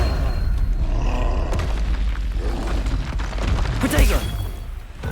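Confringo fire spell explosions in the video game Hogwarts Legacy, heavy booming bursts over a constant low rumble of combat, with a voice speaking over the action.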